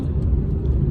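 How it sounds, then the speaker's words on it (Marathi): Vehicle driving off outdoors at a village fair, a steady low engine rumble close by, loud and continuous throughout. "चालली दन तुझी गाडी"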